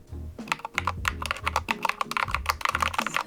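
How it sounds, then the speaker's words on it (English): Rapid typing on a cherry-themed mechanical keyboard with creamy-sounding keycaps, a steady run of close, distinct keystrokes with soft thocky clacks. "this like little keyboard setup. I absolutely love these keycaps that I got from Amazon"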